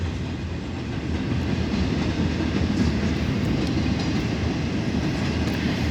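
Close, continuous rumble of freight cars rolling through a rail crossing in Folkston, Georgia, with rhythmic wheel clatter holding steady and loud.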